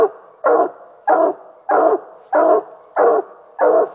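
A coonhound bays at a raccoon treed in the crotch of a tree, seven loud, evenly spaced barks about half a second apart, close by with no talk.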